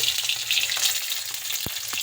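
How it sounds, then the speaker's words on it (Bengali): An egg fries in a pan for an egg curry, giving a steady, bright sizzle throughout with a few short clinks of utensils. "মা এখন ডিমটা ভাজছে"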